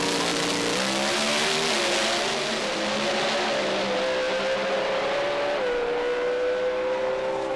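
Two drag racing cars do burnouts on the start line, a continuous loud roar of engines and tire squeal with shifting pitch that swells briefly and holds steady throughout.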